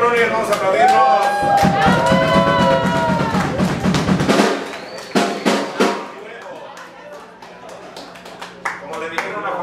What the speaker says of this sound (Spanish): Levanten sus manos, cabrones, vamos a aplaudirnos.